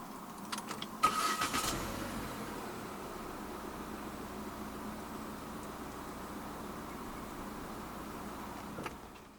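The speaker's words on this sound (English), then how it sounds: "Put your foot on the brake and press the start button to the right of the steering wheel." A quiet 2022 Proton Iriz 1.6 engine starts by push button with a short whir and catch, then settles into a low, steady idle with faint clicks near the end.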